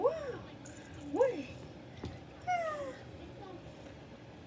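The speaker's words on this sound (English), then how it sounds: "Oh, look at the little baby kitty cat!" A kitten gives several high, short meows at a fairly quiet level, spaced about a second apart, while people talk softly in the background.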